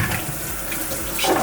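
Tap water runs steadily into a kitchen sink as quinoa is rinsed for a southwest quinoa salad, a close, continuous splashing stream that swells briefly near the end.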